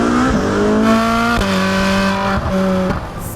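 Ferrari 458 Speciale 4.5-litre naturally aspirated V8 supercar, loud and close, holding a high steady engine note with two quick gear-change dips and rising pitch between shifts, no voices.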